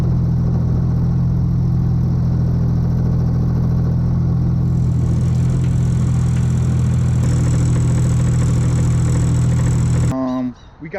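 A 6.0L LS V8 running in a square body dump truck, a steady, loud mid-pitched idle hum that holds for about ten seconds before cutting off abruptly near the end.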